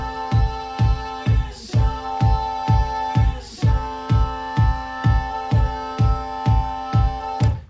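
Looped drum pattern stretched out with Ableton warping, a steady thumping beat with ringing tonal layers and two bursts of noisy smear, continuous and fairly loud with no voices.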